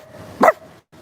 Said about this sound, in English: Dog barks make a difference